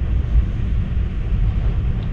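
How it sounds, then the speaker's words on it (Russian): Strong hurricane-force wind at night by a river campsite, heard from inside a car as a steady low rumbling roar buffeting the microphone, with no voices. "Сильный ветер дует."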